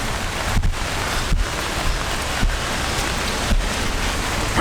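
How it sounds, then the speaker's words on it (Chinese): Steady rain pours down on a city street in Taipei, a dense, continuous hiss with a few louder splashes and drips close by. "没办法，一直的下雨。"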